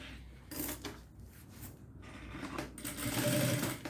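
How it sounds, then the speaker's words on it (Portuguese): A sewing machine runs in bursts of stitching as it sews a thermal backpack's lining closed against its main synthetic fabric, the motor whirring and needle clattering steadily and close by, loudest near the end, with no talking. "vou passar uma costura para fechar este forro"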